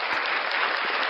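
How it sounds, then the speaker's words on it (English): A brief round of applause from an audience greeting a performer, dense clapping that is close and steady across the short moment. "round of applause for Vilified Freedom"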